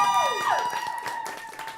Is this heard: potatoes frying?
no